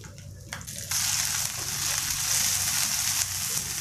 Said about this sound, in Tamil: நல்லா வதக்குவோம்